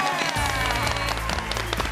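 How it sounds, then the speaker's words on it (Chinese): A dense burst of studio audience clapping and cheering at a TV cooking competition's results announcement, loud and continuous throughout with no pauses. "给自己一个掌声！ 掌声鼓励！"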